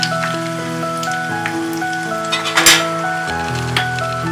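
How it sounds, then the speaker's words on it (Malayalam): Dried red chillies, cut in half, go into hot oil with already-popped mustard seeds for a Kerala chickpea curry. A steady close crackling sizzle with a brief louder burst midway plays under continuous tonal background music. "ഇതിലേക്ക് നമുക്ക് 4 വറ്റൽ മുളക് രണ്ടായിട്ട് മുറിച്ചിട്ട് കൊടുക്കാം"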